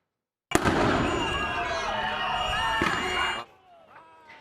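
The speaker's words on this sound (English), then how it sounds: "Agents deployed tear gas and flashbang grenades facing off with protesters" A sudden loud flashbang burst at a Chicago protest is followed by a sustained roaring hiss of tear gas canisters and crowd noise for about three seconds, then an abrupt drop to faint background sounds.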